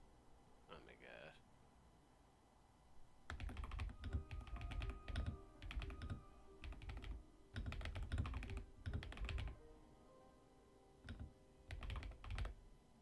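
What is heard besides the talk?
typing on a computer keyboard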